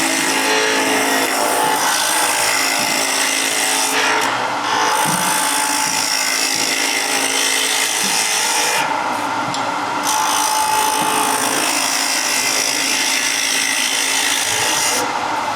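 Wood spins on a lathe while a skew chisel cuts it at a woodturners' seminar, making a continuous loud scraping, whirring hiss with brief dips in the cutting throughout.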